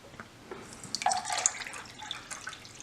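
Room-temperature water is poured into a food pouch for an MRE: soft splashing and dripping with a few brighter drops, fairly close and quiet.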